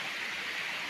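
A forest waterfall in the Amarkantak jungle pours down over rocks with a steady, dense hiss of falling water, constant and fairly close, with no voices.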